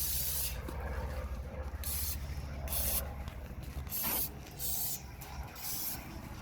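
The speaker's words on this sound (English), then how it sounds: "give it a little clean with the spray with the brake clean" Several short hissing bursts of brake cleaner sprayed onto the brakes of a Dodge Durango, separated by brief pauses, close by and fairly loud.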